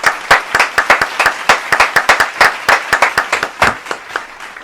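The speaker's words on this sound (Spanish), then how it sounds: "Un aplauso para don Heriberto Marín." A studio audience applauds to welcome a guest on a talk show, producing loud, sharp rapid handclaps at close range, steady throughout with no voices.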